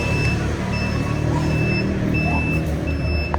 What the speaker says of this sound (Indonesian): Tuh sennya kayak truk bunyi.